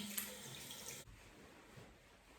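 Tap water runs steadily into a sink while a face product is rinsed off, a loud close hiss that drops to a quieter trickle partway through.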